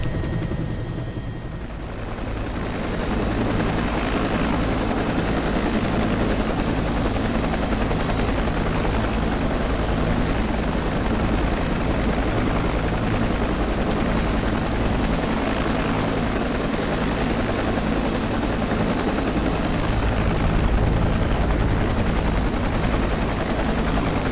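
A simulated UH-1H Huey helicopter flying over London, its rotor thumping and turbine roaring continuously and loudly, close and steady with no voices.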